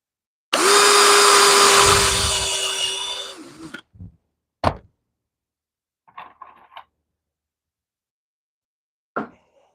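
A power drill drives screws into a wooden bench, one loud sustained whir of about three seconds followed by a few short bursts and clicks after pauses. No one speaks.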